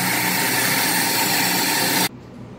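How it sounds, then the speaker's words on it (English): A Bunn commercial coffee grinder grinds beans with a loud, steady whirring roar for about two seconds, then cuts off abruptly, leaving a faint low hum. "Turn the grinder on here and just watch for this to fill up."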